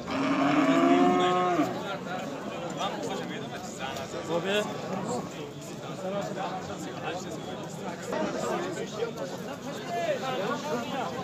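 Cattle moo loudly at a livestock market selling cows and calves in Shahrituz, with a long low call at the start and further moos amid busy crowd chatter and people talking.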